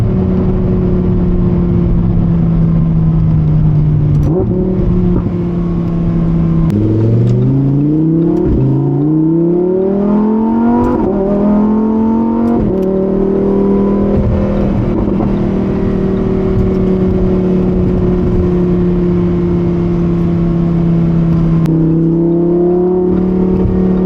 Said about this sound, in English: Trying to keep that yapping at a minimum just so you guys can hear that beautiful V10.